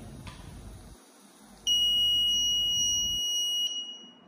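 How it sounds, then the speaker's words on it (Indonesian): An Arduino-driven electronic buzzer on an orbital shaker sounds a single steady high-pitched tone for about two seconds, loud and piercing, over faint background noise. "buzzer akan berbunyi"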